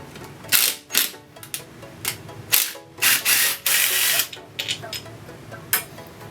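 Bolts on an AX15 transmission adapter housing are worked loose with a hand wrench, giving close, quick ratcheting clicks and metallic clatter in short irregular bursts.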